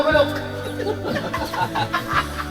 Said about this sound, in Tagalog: Nagising yung mga manok